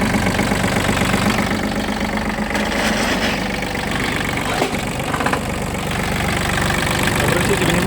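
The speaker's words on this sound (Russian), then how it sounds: "Трактор прекрасно работает." A Japanese Iseki Sial 19 mini tractor with reverse and hydraulics runs at a steady idle, its small engine chugging evenly and close by, with someone talking intermittently over it.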